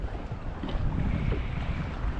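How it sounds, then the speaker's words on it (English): Wind picking up over a lake during fishing from a boat, a steady blustery rush buffeting the microphone with low rumble, continuous and close throughout. "Wind's picking up."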